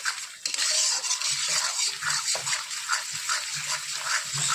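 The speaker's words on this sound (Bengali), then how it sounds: "সমস্ত মশলা ভালো করে কষিয়ে নেব।" Spices with turmeric and mustard sizzle in a pan for a boal fish curry, a dense, loud hiss with a utensil scraping and stirring through it in uneven strokes, close up and without talk.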